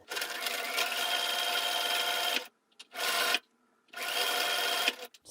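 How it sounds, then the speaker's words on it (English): Close, loud sewing machine runs a quarter-inch seam across a fabric face mask in three bursts of fast whirring stitching, with brief quiet gaps between them and no talking. "we're just going to go across the top and the bottom with the 1/4 inch seam"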